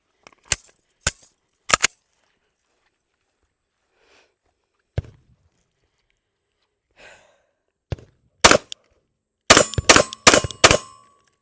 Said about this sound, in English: we have us another Glock, the Glock 45,